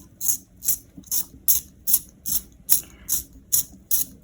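Close, crisp, rhythmic clicking of a Doms pencil sharpener turning against a pencil, about ten even ratcheting strokes in quick succession.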